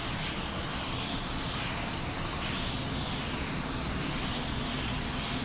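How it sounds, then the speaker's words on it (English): SX103 isopropyl alcohol mist is sprayed across a car body panel, a steady close hiss that holds without a break for several seconds. "Give the entire panel a mist."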